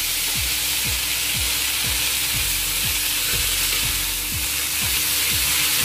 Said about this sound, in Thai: คั่วไปจนเห็ดมันจะแบบสุกค่ะ